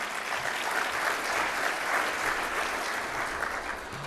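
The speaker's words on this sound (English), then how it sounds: "Actually, no, give them a round of applause now." Audience applause at a charity breakfast for Special Olympics athletes, a steady dense wash of many hands clapping from start to finish, sustained and even in loudness.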